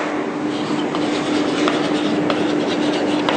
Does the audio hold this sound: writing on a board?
yes